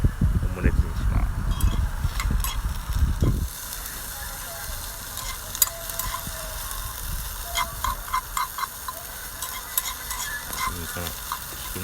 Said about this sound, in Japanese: これにピーマン足して焼きます